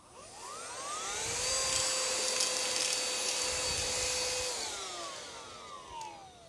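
An XREXS cordless handheld vacuum runs with a steady high whine that rises and falls in pitch as it sucks up small nuts, close and loud with no talking.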